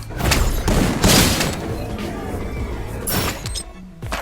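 A series of deep booming thuds and blasts from explosions in the game Free Fire hits in quick succession with crackling debris.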